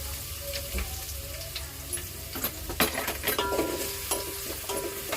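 Onion frying in a pan for Agri-style mutton curry, a steady low sizzle with scattered scraping stir clicks and clinks of a utensil, close and moderately loud, with no voices.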